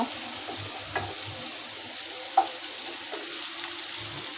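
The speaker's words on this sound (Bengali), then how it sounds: "আর এই চুলায় হচ্ছে মশলাটা কষাই নেব" Spice paste frying in a pan on a stove, a steady soft sizzle with occasional stirring clinks and scrapes close by, no voices.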